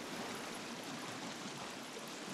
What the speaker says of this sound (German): Da ist irgendwas so ein Wasserfall oder so.